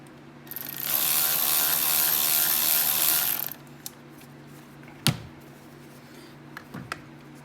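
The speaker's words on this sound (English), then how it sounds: "which looks like I'm going to have to loosen that with the ratchet" On a 2003 Ford F350 with the 7.3 Power Stroke, a ratchet whirs in a long steady buzz for several seconds while loosening a fitting, followed by a few sharp metallic clicks and clunks nearby.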